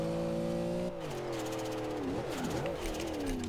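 Car engine in Forza Horizon 2 revving and shifting as it accelerates, a steady droning tone that drops at a gear change and then wavers while climbing, fairly quiet.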